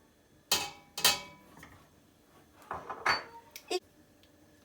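Onions and spices, including salt, pepper and paprika, are stirred in a pan on the heat, heard as several sharp metallic scrapes and clinks of a utensil against the pan, separated by quiet gaps.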